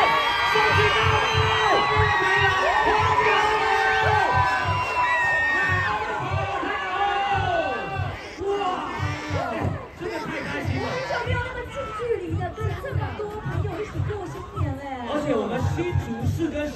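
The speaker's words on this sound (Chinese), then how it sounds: "哪里有尖叫声？" A crowd at a New Year's Eve countdown concert in Hsinchu screams and cheers, loud and continuous, with shouts and chatter rising and falling throughout.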